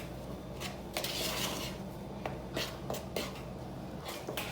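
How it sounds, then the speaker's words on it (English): A utensil scrapes and clinks against a bowl while seasonings such as pepper and oregano are stirred together, a quiet close run of uneven taps and rustles. "Mix all those in very well"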